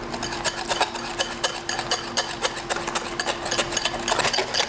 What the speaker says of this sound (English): I keep whisking against the counter, and I know that it's making noise